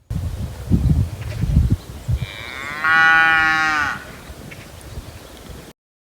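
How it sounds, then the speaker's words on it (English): A single long, drawn-out moo from white cows a short distance away on a grazing farm, preceded by brief rustling and thumps in the foreground. "These white cows are mooing like they are asking our cows to tell them how to get here."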